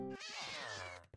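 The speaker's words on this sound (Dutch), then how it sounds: "Oh, dat was mijn kat." A single drawn-out cat meow from a Minecraft game, loud and close, running about a second with a short faint click right after it; no talking over it.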